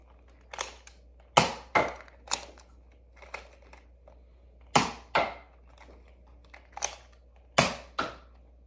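Standard blue Nerf Elite 2.0 foam darts fired from a Zuru X-Shot MK 3 blaster: about ten sharp, fairly close snaps and pops at irregular intervals, some in quick pairs, over a quiet background.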